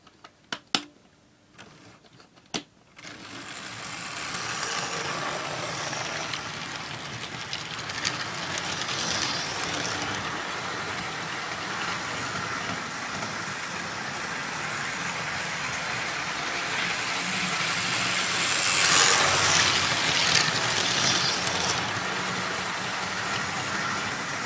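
A Dapol 00 gauge Pendolino model train runs steadily on track with a loud, continuous motor whir and rolling rattle after a few sharp clicks at the start, holding a fairly even level throughout.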